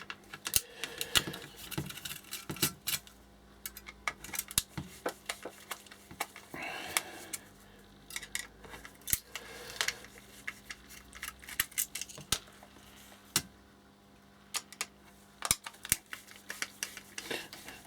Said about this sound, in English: all I'm going to do, like I did with the other one, is remove these screws